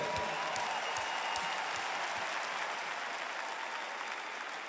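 Sustained applause from a concert audience in a large arena, steady dense clapping filling the whole stretch with faint crowd noise beneath.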